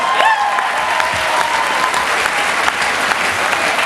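Audience at the Team London Awards 2016 in London claps and cheers for Mayor Sadiq Khan, a dense, steady wash of applause from a large crowd that stays loud throughout.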